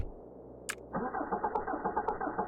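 Cranking car engine in Cataclysm DDA, a click and then a steady rhythmic starter grind that churns on for over a second without catching, mid-level and close, with faint ticks above.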